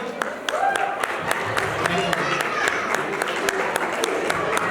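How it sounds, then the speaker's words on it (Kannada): A hall audience at a vote-of-thanks gathering gives Praveen a round of applause, a sustained, fairly loud wash of clapping from many hands that carries on evenly throughout. "ಪ್ರವೀಣ್ ಅವ್ರಿಗೊಂದು ಜೋರಾಗಿ ಒಂದು ಚಪ್ಪಾಳೆ ಬರ್ಬೋದಾ?"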